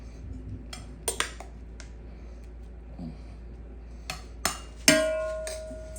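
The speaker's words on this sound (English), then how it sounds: "So let's go ahead and spread some rice across the bottom." Rice is spread across the bottom of a ghee-greased Dutch oven, heard as scattered clinks and scrapes of a utensil against the pot, with a sharper metallic knock near the end over a quiet background.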